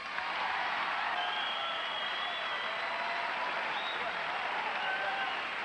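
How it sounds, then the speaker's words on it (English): A comedy-show audience claps in a broad, even wall of applause that holds steady and fairly loud, with faint voices and cheers scattered through it. "Well, you don't have to applaud."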